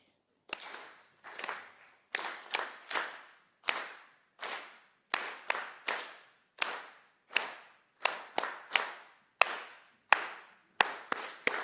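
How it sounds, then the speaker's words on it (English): A Sunday service congregation claps a repeating one-two, one-two-three pattern, crisp group claps falling in short clusters, moderately loud and without talking. "Okay, now keep clapping, and we're going to add some sound to it."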